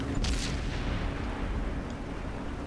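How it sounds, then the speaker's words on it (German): Automatic cannon fire from tank destroyers in World of Tanks, a loud booming burst near the start that trails off into a rumbling, reverberant tail. "Da schießt irgendwas in Automatik auf mich."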